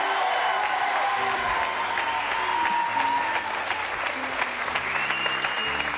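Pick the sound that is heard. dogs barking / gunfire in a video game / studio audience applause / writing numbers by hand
studio audience applause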